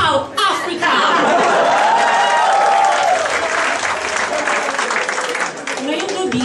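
A pageant crowd roars with loud, sustained cheering and clapping that fills the whole stretch, with shouts and laughter mixed into the dense applause.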